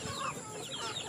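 Chickens clucking softly at close range in a farmyard, a brief burst of overlapping clucks and chatter lasting about a second, faint overall.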